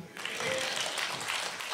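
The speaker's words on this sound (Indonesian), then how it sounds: "tepuk tangan lagi" Steady audience applause at a stand-up comedy show, dense and continuous, filling the whole moment with many hands clapping at once.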